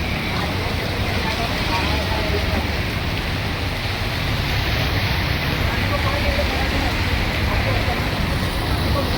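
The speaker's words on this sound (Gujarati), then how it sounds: "વરસાદ ફૂલ ચાલુ છે બાંદ્રાની અંદર" Steady, dense rain roars without a break in Bandra, Mumbai, a broad hiss over low rumbling that may include passing traffic.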